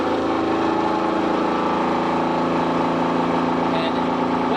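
A wound rotor induction motor speeds up once its rotor resistance is bypassed, giving a loud, steady, close-up electrical hum with layered harmonic tones that holds constant throughout.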